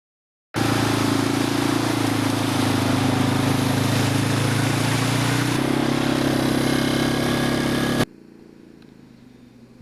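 A four-wheeler engine runs steadily and loudly close by for about eight seconds while sled dogs are trained along an Alaskan river in fall, its pitch shifting slightly midway before it cuts off abruptly to quiet.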